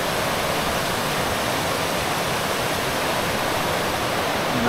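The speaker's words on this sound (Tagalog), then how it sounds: "kusog ang tubig." Strong water pours down at Catmonan waterfall in Mati City, Davao Oriental, a loud, dense, unbroken rushing roar close by, steady from start to finish with no voices.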